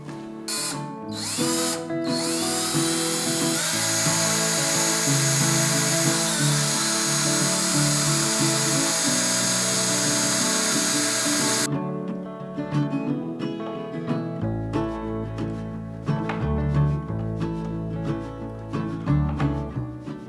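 A power drill whirs loudly and continuously, its pitch shifting as it bores into a kitchen cabinet, then stops abruptly and gives way to clattering, knocking mechanical sounds.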